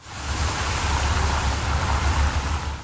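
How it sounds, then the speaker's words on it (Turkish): A heavy, sudden rain shower in Istanbul on a Sunday morning pours as a steady, dense wash of broadband noise, loud and continuous throughout with no voices. "İstanbullu pazar sabahına sağanak yağışla uyandı."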